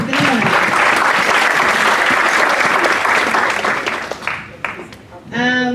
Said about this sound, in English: let's clap again for him